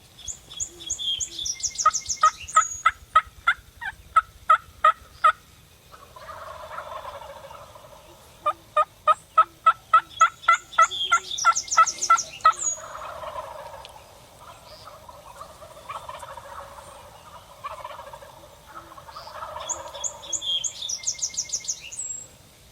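Wild turkeys gobble repeatedly from a distance, several birds calling in overlapping bursts with rapid rattling notes between calls.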